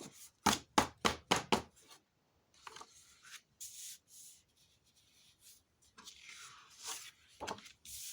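Excess material is trimmed from a folio binding with a quick run of about six sharp cutting strokes, then slower, scattered scraping and rubbing sounds, close and fairly quiet in an otherwise still room.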